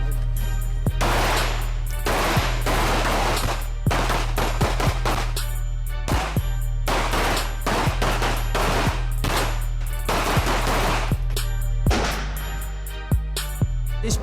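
Pistol and rifle fire on a police firing range during tactical training, a steady run of loud, sharp single shots and quick bursts repeating over about fourteen seconds, with no talking.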